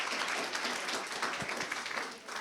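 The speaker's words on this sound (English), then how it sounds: "So I'd just like to say a big round of applause to Meghna." An audience applauding at the EGA IfWH annual conference, a soft, continuous patter of many hands clapping, heard faintly from a distance for a couple of seconds.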